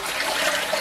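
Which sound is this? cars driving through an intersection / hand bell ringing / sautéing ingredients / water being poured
water being poured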